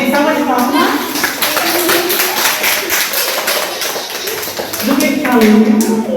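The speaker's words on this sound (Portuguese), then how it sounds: "Salva de palmas." Children in a classroom clap with quick, crisp strikes running throughout, while young voices chant and talk loudly over the clapping.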